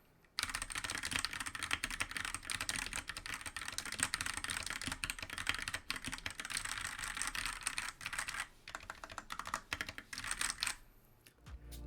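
Rapid, continuous typing on a CIY X77 TKL mechanical keyboard with crisp, clicky keystrokes, close and fairly loud, with no talking.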